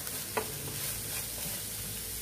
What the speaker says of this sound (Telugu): ఈ విధంగా బాగా ఫ్రై చేసుకుందామండి.